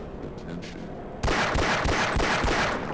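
Rapid gunfire from the Half-Life 25th Anniversary Update game erupts suddenly after a quiet stretch, a dense burst of sharp shots continuing without pause, loud and close.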